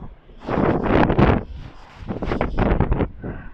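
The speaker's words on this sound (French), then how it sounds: "Quand dès le matin il y a un vent de ouf, mais je vous jure ça me pousse fort" Strong morning wind gusts buffeting the microphone in Paris, two loud rumbling bursts with a brief lull between them, no voices.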